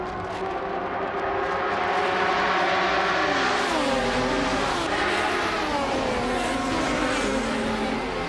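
Maserati MC12 GT race car engine in a racing video game, a loud, sustained roar with rising and falling revs as the car accelerates and shifts, close and alone without talk.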